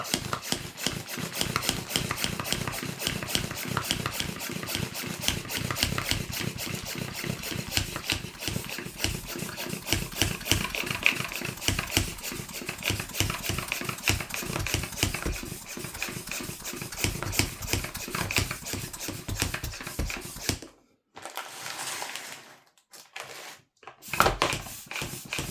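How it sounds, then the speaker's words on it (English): A hand pump draws air out of a vacuum storage bag with a flapper valve, steady rhythmic rasping strokes repeating for about twenty seconds, then a few scattered softer sounds with short gaps. "also let's use our hand pump"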